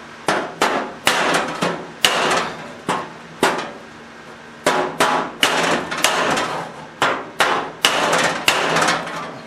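A hammer strikes a dolly held under a weld on a VW body panel, steady loud metallic blows in irregular clusters, close by with no talk.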